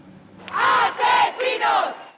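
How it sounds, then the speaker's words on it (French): A street protest crowd in Valence chants slogans in unison against authorities' inaction over floods, three or four loud rhythmic shouted bursts close by. "les slogans scandés par la foule hier soir contre Carlos Masson"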